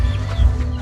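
A gray gamecock rooster gives a short, close cluck, a single brief burst of low throaty fowl sound with no talk.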